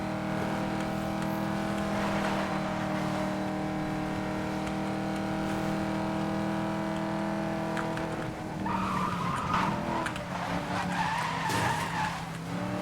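A car slides sideways through a drift in Need for Speed: Most Wanted (2012), with a steady engine drone and a loud, continuous tire skid that swells and wavers in its last few seconds.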